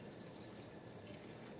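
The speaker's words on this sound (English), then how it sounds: "I'm also going to add some water to that. So I have a full jug of water." Water from a full jug pours into a cooking pot for a mushroom sauce, a faint, steady splashing rush that runs unbroken for the whole brief moment.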